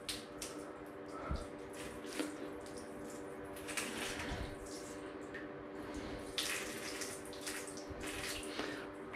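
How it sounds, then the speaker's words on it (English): Water runs and splashes in a shower during a plumbing leak trace, a steady hiss with soft irregular spatters and squishy drips, fairly quiet and alone without talk. "let's now wet up this middle section"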